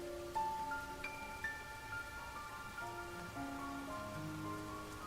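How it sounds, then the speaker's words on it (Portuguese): Steady rain falls, pattering evenly on a surface with scattered droplets and a faint tonal hum underneath, continuous and calm throughout. "A chuva cai sobre seu corpo"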